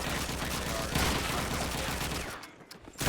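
Gunfire in a Counter-Strike match during a LAN tournament, with dense, rapid bursts of shots over a steady game background that fade near the end.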